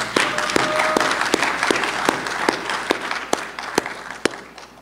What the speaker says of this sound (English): So let's give a round of applause for all of those people.